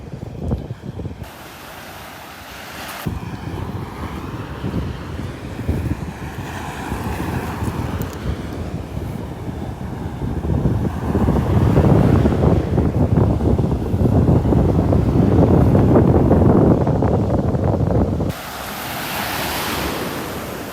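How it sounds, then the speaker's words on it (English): Heavy wind buffeting the microphone on a beach walk in North Naples, Florida, steady and loud throughout, with surf rolling underneath and gusts rising toward the end; no one speaks. "I don't know if you're hearing that wind noise."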